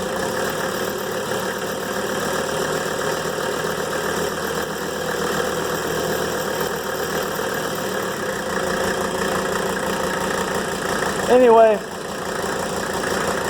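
A rebuilt Mercedes OM617 diesel engine idles on an engine stand with a steady, knocking diesel clatter that holds throughout. Someone speaks briefly near the end.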